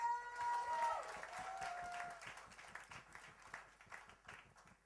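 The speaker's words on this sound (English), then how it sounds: "I think this guy deserves another round of applause, please." Applause from an audience at a fashion show press event, dense clapping that thins into scattered individual claps, fairly faint, with a brief voice or tone near the start.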